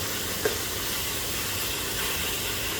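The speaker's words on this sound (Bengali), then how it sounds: "আদা রসুন কাঁচামরিচের সাথে এটা আমি হালকা বাদামি করে ভেজে নেব" Chopped ginger, garlic and green chilies fry in hot oil for tawa chicken, giving a steady, even sizzling hiss throughout with one small pop near the start and no voices.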